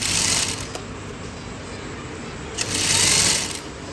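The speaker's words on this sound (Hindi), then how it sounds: "और सिलाई मारते चले जाइए।" A sewing machine stitching piping onto blouse fabric, running in a steady, close, mechanical whir that swells in two louder bursts with a brief slower stretch between them.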